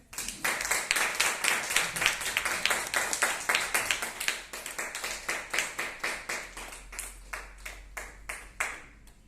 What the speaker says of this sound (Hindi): तब तक आप तालियां बजा सकते हैं